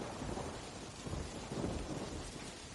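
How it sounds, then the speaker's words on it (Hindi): Heavy rain pours in a steady, dense wash, with low rumbling thunder rolling beneath it throughout. "मूसलाधार बारिश हो रही है।"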